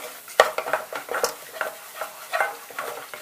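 A utensil stirs a butter and flour roux in a pan, making close, repeated scraping strokes over a soft sizzle with no one speaking.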